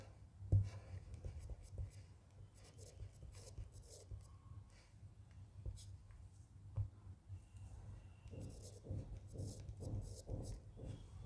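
Pen writing an answer by hand on paper for a Hindi sample paper, with soft continuous scratching strokes heard close up.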